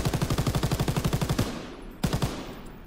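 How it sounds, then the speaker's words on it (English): A bipod-mounted machine gun in Call of Duty WW2 fires a fast, even string of about twenty loud, close shots, then pauses and fires a short final burst of three or four rounds. "if we put this on the bipod, it's actually using the spare ammo, and if you listen, the fire rate is actually increased"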